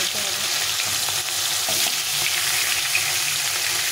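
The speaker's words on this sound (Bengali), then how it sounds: "মাছগুলো এক পাশে ভাজা হয়ে গেছে, আমি উল্টে পাল্টে মাছগুলোকে ভালো করে ভেজে নিতে হবে।" Pieces of a large fish, about a kilogram whole, sizzle and spit steadily in hot oil in a pan, a loud continuous frying hiss with occasional stirring, alone without talk.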